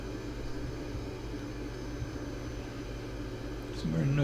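An Airbus A330-300 airliner flies between Brisbane and Coolangatta, heard as a steady low cabin roar with a broad airflow hiss that swells slightly toward the end.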